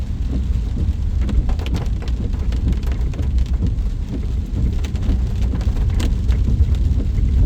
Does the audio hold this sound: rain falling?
yes